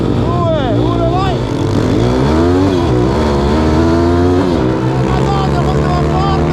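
Pit bike motorcycles race and accelerate with a loud, continuous engine roar that rises and falls in pitch through revving, heard up close the whole time.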